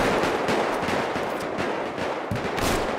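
Gunfire in the video game GTA 5, a dense, constant barrage of loud overlapping shots with no gaps, close and harsh, and no talking.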